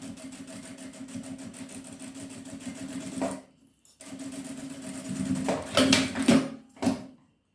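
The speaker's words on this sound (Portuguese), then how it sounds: "Vou passar uma costura de segurança." A sewing machine runs a safety seam through waterproof twill for a small wallet, a steady close mechanical whir that stops briefly partway, then resumes in uneven spurts before cutting off.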